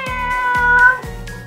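Cats at a cat sanctuary in Rome meow in a run of three or four clear, close calls, each a sliding, drawn-out cry following quickly after the last, with no talking.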